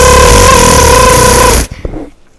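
A voice imitates a minigun firing, a loud, continuous buzzing rattle held for about a second and a half before cutting off abruptly into near silence.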